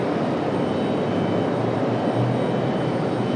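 An American Airlines Airbus A319 jet departs, a steady broad engine roar holding at moderate distance for a few seconds, no voices.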